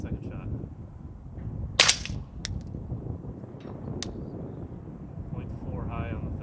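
A suppressed 16-inch AR-15 firing 300 Blackout subsonic rounds at a distant range target: one short muffled crack stands out, with faint later ticks, under steady outdoor noise and someone talking.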